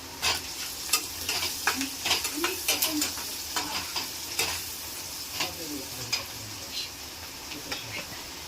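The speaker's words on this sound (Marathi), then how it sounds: "आता आपण कांदा फ्राय करत आहोत।" Chopped onion with salt sizzles steadily in a pan, with frequent sharp scrapes and taps from stirring close by and a brief murmur of voice in the background.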